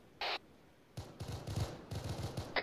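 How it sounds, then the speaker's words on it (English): Gunfire at a military field training exercise: a few quick bursts of shots in sharp clusters, faint and distant, with a brief scrape near the start and no talking. "I hear shots."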